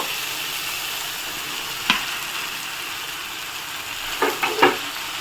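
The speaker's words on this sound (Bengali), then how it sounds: "ভালো করে নেড়ে চেড়ে কষিয়ে নেব কাঁঠালের সাথে এখন" Fried jackfruit pieces being stir-fried with spices in a pan, producing a continuous steady sizzle with a single scrape and then a quick cluster of spatula knocks near the end, close and moderately loud, no talking.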